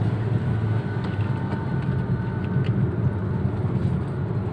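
Steady low engine and road drone inside a 2014 Toyota Etios Valco cruising in fifth gear after skipping up from second at about 40, a smooth continuous hum with no distinct changes.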